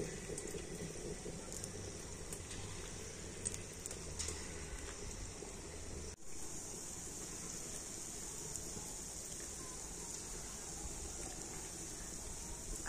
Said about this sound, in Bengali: আর নিয়ে এইভাবে আমি ছোট ছোট করে বড়ার মতো করে দিয়ে দিচ্ছি